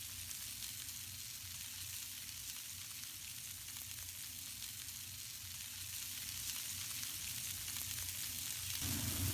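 Iraqi kofta kebab cooking on a hot grill, a constant dense crackling sizzle that stays even throughout and swells slightly near the end, close and steady with no talking.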